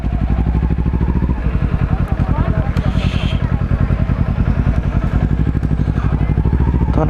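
Motorcycle engine idling and running close by, a loud, steady, rapid low putter with a slight rise in revs, while someone talks over it.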